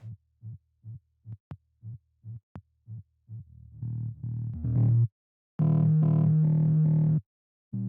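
Experimental synth bass with soft-clip distortion plays as short repeated plucks, then longer gritty sustained notes that grow louder and buzzier, with brief gaps of silence.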